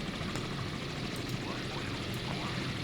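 A maritime patrol helicopter in a naval combat game drones steadily at low volume, a faint continuous rotor and engine hum with no other clear sounds.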